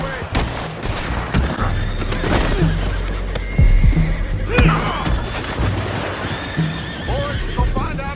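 Horses whinny and neigh repeatedly in the Red Dead Redemption video game, several loud calls rising over hoof clip-clop and scattered gunshots, with a voice occasionally heard in the mix.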